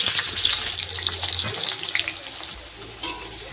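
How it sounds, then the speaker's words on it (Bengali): Potatoes frying in hot mustard oil give off a steady, fairly loud hiss with a few light clinks and scrapes near the pan, easing slightly toward the end. "এখন আমি কয়েকটা আলু ভেজে নেব"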